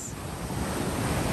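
Sea waves washing onto a beach at Alcaçus on the Bahia coast in rainy weather, a loud continuous roar of surf mixed with heavy wind buffeting the microphone.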